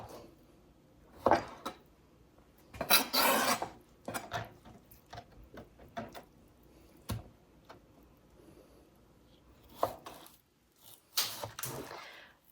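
A kitchen knife cutting pork for chile verde: a series of soft, irregular scrapes and taps against a board, fairly close, with short bursts of slicing and quiet gaps between them.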